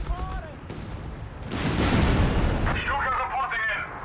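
Artillery bombards in the Company of Heroes 3 strategy game: a swelling, rumbling barrage of distant booms and crackling blasts, with a commentator's voice heard over it.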